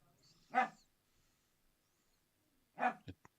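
Dog barking, two loud separate barks about two seconds apart with a short yelp after the second, near and alone in a quiet room.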